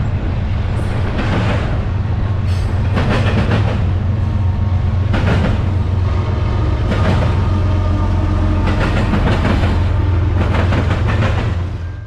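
A long eastbound intermodal freight train led by an NS ST70 ACE locomotive rumbles past nearby at west Chicago JB tower, loud and steady, with rhythmic clicking and clanking of wheels over rail joints.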